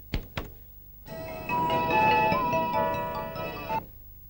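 A telephone rings indoors: two short dull knocks, then an electronic melodic ringtone plays for nearly three seconds, fairly loud and close, and cuts off abruptly with no voices.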